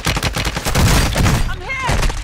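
Loud, close gunfire in the video game Call of Duty Warzone, a fast irregular stream of shots over about a second and a half, followed by whistling sweeps and a few further cracks.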